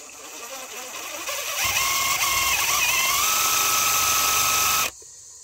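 A power drill runs steadily while driving a bit through wood for a root cellar footer at an off-grid build, a loud continuous whine for about three seconds before cutting off abruptly, with a quieter start.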